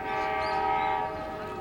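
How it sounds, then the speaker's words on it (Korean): A tourist train at the old Gokseong railway station sounds a steady, sustained horn blast that holds briefly at close range and then tapers off. "이게 관광열차였습니다"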